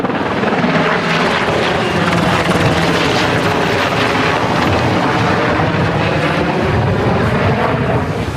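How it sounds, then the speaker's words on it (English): Firefighting helicopter rotor noise roars loudly and continuously nearby at the Solimar wildfire, two helicopters making water drops, a heavy throbbing drone mixed with wind buffeting the microphone. "So we got 2 helicopters here right now. One just made a drop."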